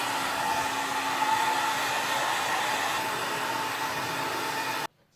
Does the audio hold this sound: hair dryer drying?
yes